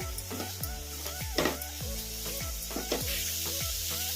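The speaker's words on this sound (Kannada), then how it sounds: "ಈಗ ಟೊಮೆಟೊ ಒಂದು ಸ್ವಲ್ಪ ಮೆತ್ತಗಾಗೋವರೆಗೂ ಫ್ರೈ ಮಾಡ್ಕೋಬೇಕು ಮೀಡಿಯಂ ಫ್ಲೇಮಲ್ಲೇ" Tomato frying in a pan over a medium flame with spices, a continuous close sizzle under rhythmic scraping strokes of a spatula roughly twice per second, no one speaking.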